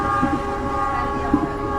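Steady interior rumble of a crowded Supas economy commuter train near Probolinggo, with a continuous hum of the carriage, a couple of soft knocks, and faint background voices of passengers.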